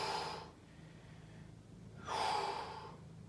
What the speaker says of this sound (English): We're just breathing.